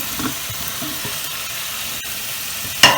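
Fried taro pieces drop into a hot pan of capsicum and onion for Indo-Chinese chilli arbi, giving a steady close sizzle with scraping stirs and a sharp louder burst of frying near the end.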